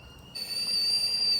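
A kettle whistles at a camp, starting abruptly after a short quiet moment and then holding one steady, piercing high tone, loud and close, with faint background rumble beneath.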